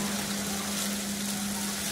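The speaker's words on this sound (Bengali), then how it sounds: "এইটাকে আরো 2-3 মিনিট ভুনে নিব।" Nut paste frying in a pan with spices during a home-style Bengali curry, a steady soft sizzle and hiss running evenly throughout with no talking.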